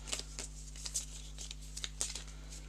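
A deck of playing cards being shuffled in big shuffles during a tabletop card game, soft repeated riffling snaps and flicks at an uneven rhythm, close and fairly quiet over a low steady hum.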